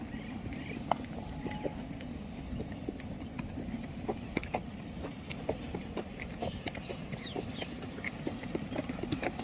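Hooves clip-clop steadily as several mares and fillies walk along in the morning, a continuous uneven rhythm of hoofbeats over a low background rumble of running motors.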